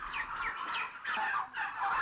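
Turkeys gobbling inside a turkey farm shed, several bursts of overlapping gobbles in quick succession at moderate volume, with no voices.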